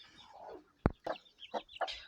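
A Shamo brooding hen clucks softly among her chicks in a farmyard, a handful of short, close clucks and chirps spaced irregularly over a quiet background.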